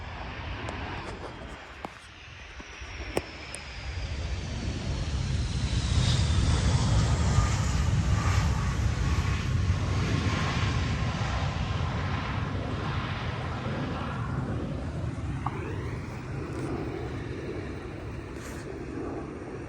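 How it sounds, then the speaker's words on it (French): An airplane on approach to land passes overhead outdoors. Its engine drone swells over several seconds, holds, then slowly fades, heard from a moderate distance with some road noise around it. "On a de la chance de voir un avion qui va atterrir là, regardez."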